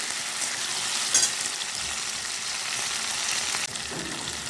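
Chopped tomato with ginger garlic paste sautéing in a pan for chicken rezala, a dense, even close sizzle with a brief scrape of stirring partway through and no talking.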